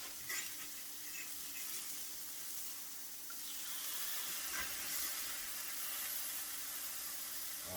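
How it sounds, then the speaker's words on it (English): Sausage patties sizzle in a pan just after being flipped for a biscuits-and-gravy breakfast, a steady soft hiss that stays faint and even throughout with no talking. "Let's flip these patties."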